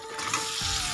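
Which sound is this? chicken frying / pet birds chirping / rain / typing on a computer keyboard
chicken frying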